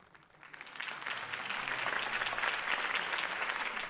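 Crowd applause at a Harvey Dent campaign speech in Batman: The Telltale Series, clapping that swells up from quiet within the first second and then carries on as a dense, steady roar of many hands.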